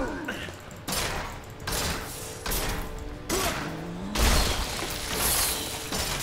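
Demon hunter gunfire in the Diablo 3 video game: a series of about six sharp, loud shots with crackling impacts, spaced irregularly over a steady game backdrop, with no talk.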